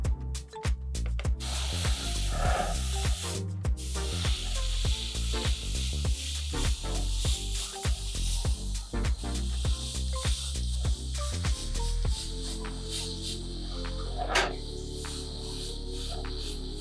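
Silver spray paint hisses from an aerosol can onto resin keycaps in steady bursts with brief pauses between passes, close and fairly loud, with no talking.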